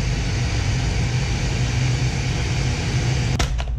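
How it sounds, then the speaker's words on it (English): A blender purees chilled cucumber and avocado soup, a steady loud motor whir with dense low rumble running throughout, ending with a couple of brief clicks. "it's a good idea to cover the top of your blender while you're blending"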